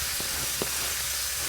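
Seasoned sea bass pieces sizzling in a hot pan, a steady bright frying hiss with a couple of soft pops and crackles, close and continuous.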